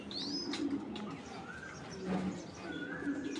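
Several pigeons at a breeders' club coo softly and steadily at moderate distance, with light chirps and occasional wing flutters mixed in, over a continuous low background murmur.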